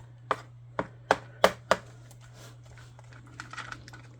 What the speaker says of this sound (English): Going in with a spoon just to push that off in the corners.